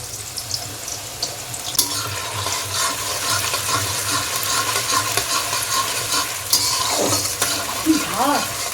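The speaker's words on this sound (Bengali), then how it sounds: "তেলটা আমাদের গরম হয়ে গেছে টুকরো আমগুলো মা তেলের মধ্যে দিয়ে দিচ্ছে" Mango pieces dropped into hot mustard oil for mango kasundi, a loud continuous frying hiss with stirring and clatter, and brief voices near the end.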